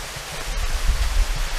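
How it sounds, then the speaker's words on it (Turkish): Steady rushing of a waterfall continuing from a larger cascade, a shallow swimming pool about 1.5 metres deep beneath it, heard close and fairly loud as a continuous broadband roar with no talking. "aa bak, burada da bir şelale, aynı şelalenin devamı"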